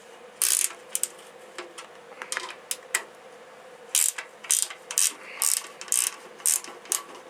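A ratchet works loose fender bolts on a 2002 Triumph Bonneville motorcycle in a garage, giving bursts of crisp, close clicking pawl strokes separated by short pauses.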